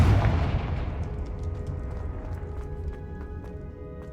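Confringo blasting spell explosions in the Hogwarts Legacy video game, a heavy booming blast up front followed by rumbling debris and scattered crackling impacts that fade out.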